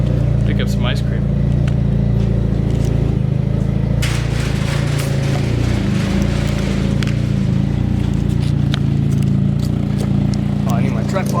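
A Nissan S14 240SX cruises down the road, its steady engine drone and road roar loud and continuous from inside the cabin, with occasional clicks and rattles over the top.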